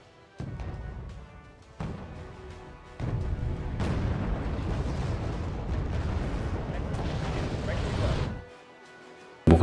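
Artillery fire in the Wargame: Red Dragon strategy game, a dense run of booming blasts that swells into a sustained rumbling barrage before cutting off, with speech heard over it.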